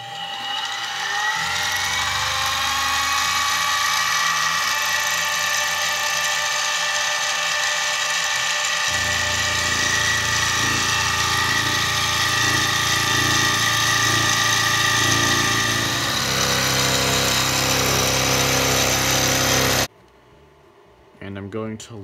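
A Harbor Freight mini mill machines metal stock, its motor whine and rattling gear and cutter noise running loud and steady for about twenty seconds before cutting off abruptly; a voice talks over the machining.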